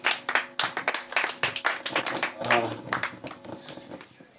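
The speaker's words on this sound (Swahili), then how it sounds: "Pigia Bwana Yesu makofi mazuri." A church congregation claps hands in praise for Jesus, a lively run of sharp, fairly even claps with voices speaking over the rhythm.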